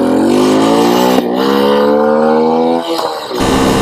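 An old Honda Cub motorcycle engine runs loud and steady, a rough buzzing drone that dips briefly near the end before picking back up.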